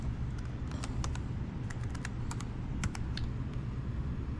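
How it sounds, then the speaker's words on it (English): Quick taps on a laptop keyboard as a numeric code is entered, a string of light clicks in small bursts over a steady room hum, close by with no one speaking. "So I'll go ahead and type in 765772."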